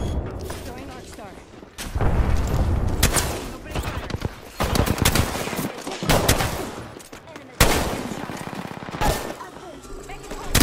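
Bursts of automatic gunfire and loud explosive booms in an online shooter game match, dense and close, coming in several waves with short lulls between them, with a player's voice talking over the shooting.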